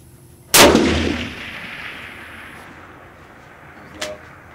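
A single sharp, loud shot from a WWII German Mauser 98K rifle at an outdoor long-range firing line, its blast decaying into a long echo, followed a few seconds later by a faint, brief distant impact.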